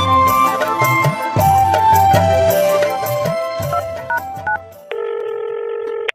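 A string of short electronic mobile phone keypad tones plays over busy background music, then a steady multi-tone electronic ring sounds alone near the end.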